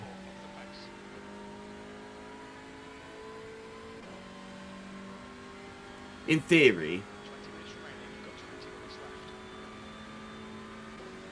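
A Hyundai race car engine in iRacing, a steady buzzing drone at constant pitch, with a short burst of speech cutting in over it partway through.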